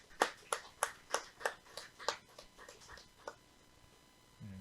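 Welcoming applause for a couple in a church congregation: a run of crisp, evenly spaced claps that are loud at first, then thin out and fade into quieter scattered claps.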